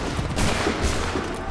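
Musket volleys in Assassin's Creed III, a dense crackling fusillade of overlapping shots with shouting voices mixed in.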